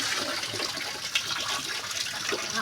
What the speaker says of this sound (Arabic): شايفه الميه نازله ايه بتغلي من الحنفيه